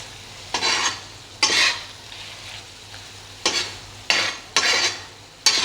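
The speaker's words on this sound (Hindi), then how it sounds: "ये देखिए 5 से 7 मिनट मुझे हो गए इसको भूनते हुए" Kaleji (liver) frying with onion on a tawa, stirred in bursts: six or so bright scraping strokes of a spatula over a steady background sizzle, close and fairly loud, with no voices.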